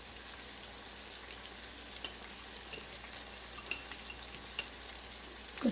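Tomato masala for masoor dal frying gently on a low flame, a soft, steady sizzle with faint occasional crackles and spoon scrapes, fairly quiet and alone.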